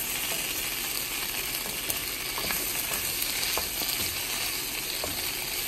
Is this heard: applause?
no